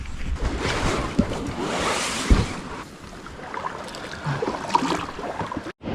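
Smaller of two backcountry waterfalls gives a steady broadband rush of falling water, moderately loud and continuous with slight swells, heard alone.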